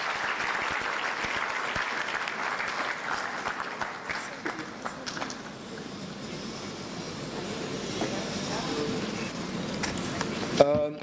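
Audience at a renewable energy conference and expo applauding the Minister, a broad patter of clapping from a large hall that thins slightly midway, then swells again, with a few faint voices mixed in.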